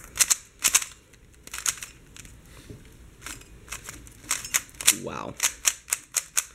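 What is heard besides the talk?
turning a Moyu Aulong speed cube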